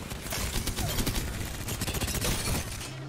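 A rapid, continuous burst of automatic gunfire in Apex Legends, dense and loud throughout with the shots running together, no voices over it.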